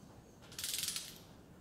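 A socket ratchet tightens nuts on fine-thread studs holding cast cylinder heads, making a short, quiet burst of rapid clicks in an otherwise still workshop.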